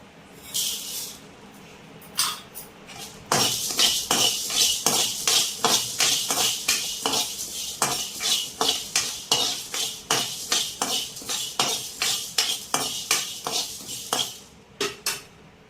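Toor dal and coriander seeds dry roasting in a pan, a dense run of sharp rhythmic metallic scrapes and clinks as a spoon stirs them, close and loud, with no talk over it.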